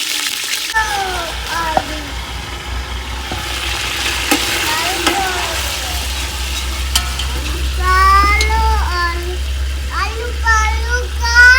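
Chopped onions, green chillies and tomatoes fry and get stirred in a pot on a new stove for chicken pulao, a loud steady sizzle with scraping spoon strokes throughout, and a voice chirps over it.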